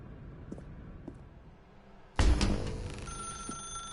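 A telephone rings in a video game, the ring bursting in suddenly partway through and sounding loud and near over quiet ambient background tones, with no talk.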